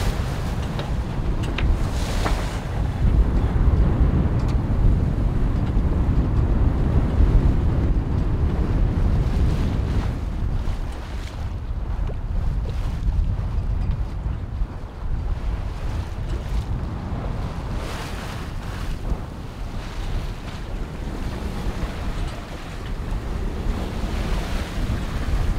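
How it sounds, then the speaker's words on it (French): Gusty wind and waves around a sailboat at sea approaching Gibraltar at night: a loud, continuous roar of wind buffeting the microphone over rushing water, surging and easing in strength throughout. "Il y a des rafales, après il n'y a plus de vent, après c'est re-rafale."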